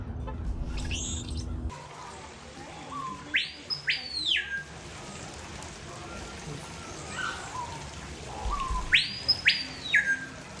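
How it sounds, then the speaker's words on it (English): Two bursts of blackbird calls, liquid gurgling and whistled notes, stand out over a constant outdoor hum in a parking lot near San Diego, one early and another near the end. "The adventure started in the parking lot with these blackbirds. Just gurgling."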